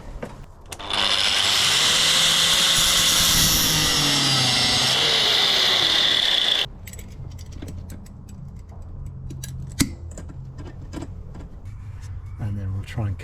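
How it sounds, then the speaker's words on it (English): An angle grinder cuts through old staples on a rotten 30-year-old camper, a loud steady whine running for several seconds before stopping abruptly, followed by quieter clicks and tapping of the pieces being pulled out. "probably the easiest way of tackling these staples is just to cut them with the angle grinder"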